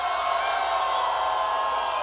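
A crowd at a Family Research Council event shouts and cheers together in a steady, loud roar that fills the whole stretch without a break.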